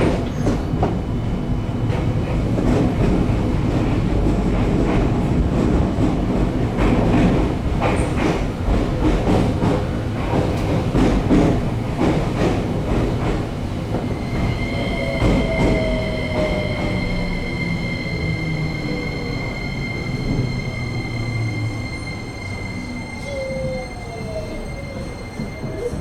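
A JR Kyushu 303 series local train running from Chikuzen-Maebaru toward Meinohama, heard from on board, with a steady loud rumble and clacking wheels, then rising and falling motor whines and a squealing of wheels as it slows.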